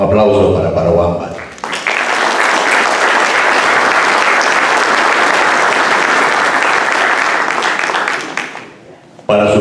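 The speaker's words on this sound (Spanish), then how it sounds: "Un aplauso para Parobamba." Loud, sustained applause from a book-launch audience, a dense roar of hands lasting several seconds, with speech just before it starts and again as it dies away.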